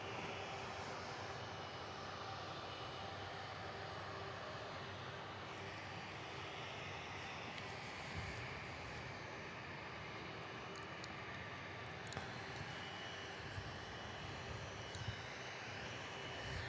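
Airliners taking off at Miami airport, giving a steady, continuous broadband engine roar that holds at an even, moderate level throughout, with a faint low hum beneath and a few tiny clicks near the end, and no voices.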